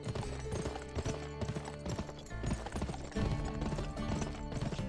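Horse hooves clip-clop in a rhythmic trot through the Old West of the video game GUN, moderately loud over a bed of music and game ambience.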